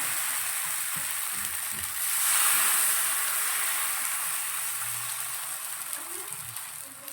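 Rava dosa batter poured onto a hot pan fries with a steady, loud hiss that swells for a moment as more batter hits the surface, with faint stirring and a few soft background voices.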